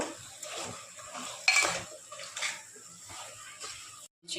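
Mutton curry being stirred and sautéed in a pot, a metal spoon scraping and clinking against the pot with soft sizzling, irregular strokes close by, ending in a brief silence.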